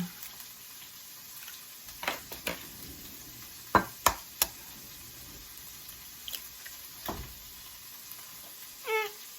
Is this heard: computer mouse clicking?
no